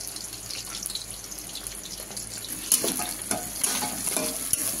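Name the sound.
chopped onions frying in a pan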